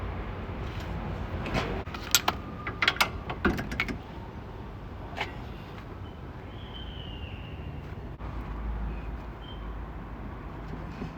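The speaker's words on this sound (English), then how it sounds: "I'm just trying to free up this brake line clamp so I can get a bit more movement without damaging the brake lines." Metal clanks and scraping from working a brake line clamp loose under a van, a cluster of sharp knocks early on, then quieter fiddling over a steady background hum.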